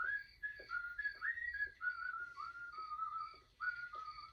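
Clear melodic whistling, a person whistling a tune in short phrases with brief pauses, fairly close and steady in volume.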